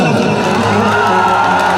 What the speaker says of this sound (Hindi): पागल भैया के लिए जोरदार ताली और हल्ला करो